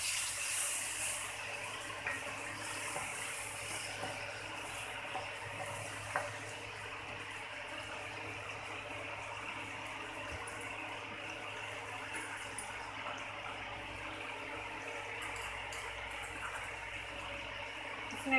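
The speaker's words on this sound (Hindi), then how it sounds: "अभी मैं इसमें पानी डालने वाली हूँ," Water poured into pumpkin sabzi (kaddu) cooking in a pan gives a steady, soft rush that keeps going for the whole stretch without talk.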